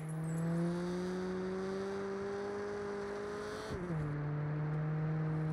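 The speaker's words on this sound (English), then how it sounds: "Whether it's the car engine that's so quiet you don't notice it's there" A steady Saints Row car engine drone with a smooth rising tone that dips suddenly near the end, like a game car holding speed then shifting down.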